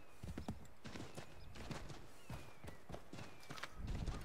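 Horse hooves clip-clop at a steady trot in Assassin's Creed III, repeated close thuds running through the whole stretch with game ambience behind and a brief whinny-like sound.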